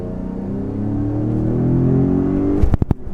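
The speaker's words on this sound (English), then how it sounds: "that was a hard shift" A Ford Raptor pickup truck engine revs steadily upward, then a sharp jolt and a few abrupt knocks as the gear changes harshly, close and loud.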